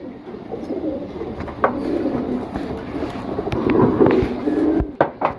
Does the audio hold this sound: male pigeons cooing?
yes